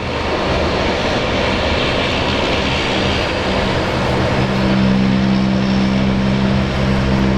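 Aircraft at Brisbane Airport on a winter morning, a loud, broad engine roar with a steady low drone that holds and swells slightly toward the end, continuous and close.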